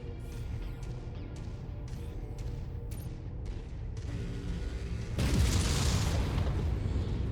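A mech blows up during a MechWarrior 5: Mercenaries battle, a sudden loud rumbling blast that swells and rolls on after a stretch of sharp rapid weapon impacts and a steady low engine drone.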